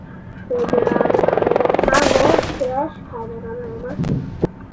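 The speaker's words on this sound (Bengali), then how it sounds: "তো লাফালে হেলিকপ্টারের আওয়াজটা হয়।" A video game character jumps in an escape-from-Barry's-prison game and triggers a helicopter effect, a loud rapid rotor-like buzz of about half a second, followed by quieter electronic game tones and a sharp click.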